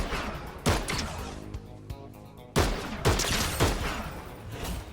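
Bursts of gunfire in the video game Fortnite, several sharp volleys separated by brief gaps with a lingering rumble, loud and close without talk.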